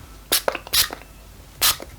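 Three sharp hissing bursts from a L'Oreal Shake and Glow Illumina aerosol spray, short and forceful, come up close with small clicks and rustles between them.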